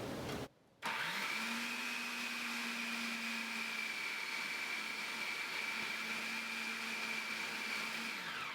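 A food processor runs steadily on low speed, mixing pastry dough for a peach cobbler braid, with a constant whirring drone interrupted by a brief pause near the start before resuming evenly to the end.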